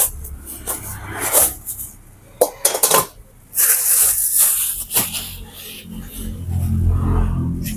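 Stainless steel rice pots clatter and clink as they are handled in a shop, with loud bursts of metal knocking and scraping close by against a busy background murmur.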